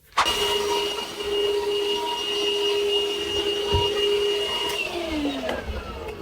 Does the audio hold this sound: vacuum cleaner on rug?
yes